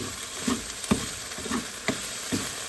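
Pork and ginger frying in a pan for shouga-yaki, a close, steady sizzle with regular soft scraping strokes as the food is stirred, about every half second.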